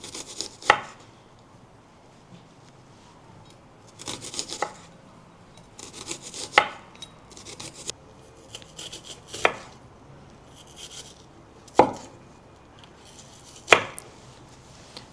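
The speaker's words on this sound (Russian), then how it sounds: "Так весь лук будем резать." A knife slices onion thinly on a wooden board for a tomato and onion salad, giving sparse, sharp chops several seconds apart with soft rubbing between them, close by, with no talking.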